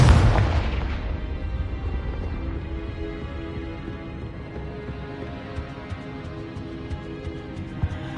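A Confringo spell explodes in the Hogwarts Legacy video game, a loud close boom at the start that decays into a long rumbling tail with faint crackles and debris.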